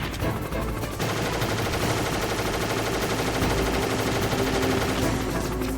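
Enemy gunfire in the game Sir Rando forms a loud, dense, continuous barrage of overlapping shots that never lets up.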